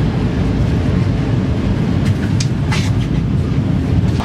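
A train at a station on a rainy day, with a steady loud rumble of rail cars filling the whole stretch and a few brief higher squeals or hisses partway through.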